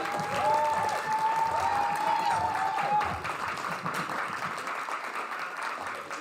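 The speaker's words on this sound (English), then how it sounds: "Everyone, give a massive round of applause for your runners-up" Crowd applause at a Splatoon 3 LAN tournament grand final, a steady broad roar of clapping and cheering from a large audience, with voices audible over it.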